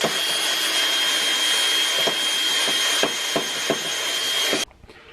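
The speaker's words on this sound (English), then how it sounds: "once I wire brushed all the way around the trim of where I want to paint" A wire brush wheel spun by a drill scours bare metal in a Nissan 240sx trunk, giving a loud, steady, gritty whir with a few knocks before it cuts off abruptly near the end.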